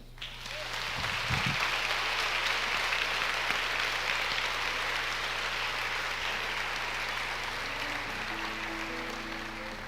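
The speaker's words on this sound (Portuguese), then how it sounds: "Dê um aplauso ao Senhor." Church congregation applauding during a sermon, broad continuous clapping filling the room at even loudness, with a sustained low keyboard tone underneath.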